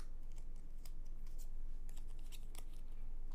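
A deck of cards for the Castles of Burgundy card game is shuffled by hand in a quiet room, a run of soft riffling flicks and taps at close range, no voices.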